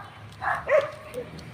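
A single short dog bark, followed by a brief whine-like tail, sounds at moderate distance over faint background noise.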